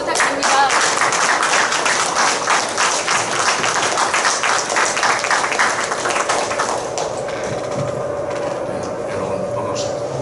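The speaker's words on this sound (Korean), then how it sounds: "큰 박수 부탁드립니다." An audience gives enthusiastic applause as a former unification minister is invited to the stage for a speech on peace on the Korean Peninsula, with dense rhythmic clapping that thins out after about seven seconds.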